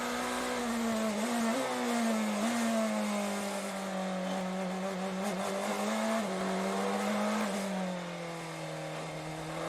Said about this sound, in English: Oh, that Cadillac is sliding around.